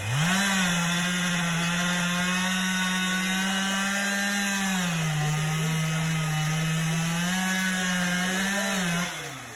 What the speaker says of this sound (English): you got to have a chainsaw running in the background, right?